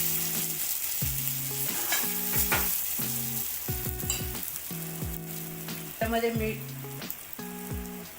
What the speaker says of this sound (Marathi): गरम मसाला, हळद हे सगळं तेल सुटेपर्यंत मसाल्याला तळून घ्यायचं आहे.